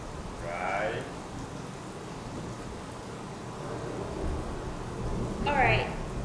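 Rain falls steadily with a low thunder rumble in the background, a faint continuous wash broken by a couple of brief tonal sounds, no speech.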